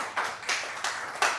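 A few bursts of hand clapping at a church-style gathering praising Jesus, about four short claps spaced unevenly, fairly close and moderately loud with a brief ring after each.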